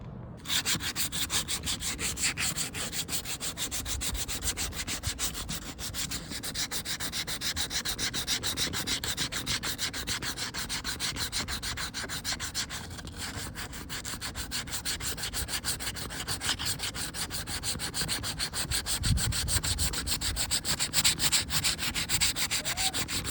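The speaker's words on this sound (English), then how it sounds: "now I'm hand sanding to get it a little closer" Continuous rhythmic hand sanding of a plastic car bumper, fast back-and-forth rubbing strokes scraping steadily and close up for a long stretch without pause.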